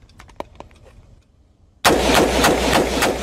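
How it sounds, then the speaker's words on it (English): A run of about five loud gunshots fired at a target, sharp evenly spaced reports coming close together after a quieter stretch of faint clicks and handling sounds. "I'm going to fire about 5 shots"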